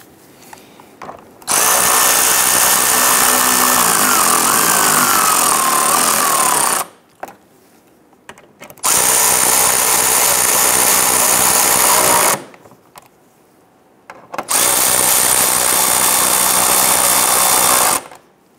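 A power tool snugs down bolts on the AC condenser of a 2011-2019 Ford Explorer, three long loud whirring runs of several seconds each separated by short quiet gaps, close up.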